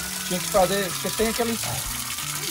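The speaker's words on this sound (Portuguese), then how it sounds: "Coloca água direto assim no coxo para os porcos." Water gushes steadily as it is poured straight into a pig trough in a pigsty, a continuous rushing flow under someone talking in Portuguese.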